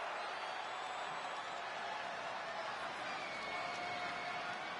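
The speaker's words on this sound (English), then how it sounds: "And the crowd is starting to come to their feet." Crowd in a wrestling video game arena, a dense, steady roar of cheering and noise heard from a distance, even in level throughout with no clear voices.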